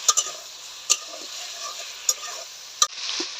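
Potato, cauliflower and beans frying in a pan for curry, a quiet steady sizzle broken by a few sharp clicks of a spatula against the pan, close up with no talk.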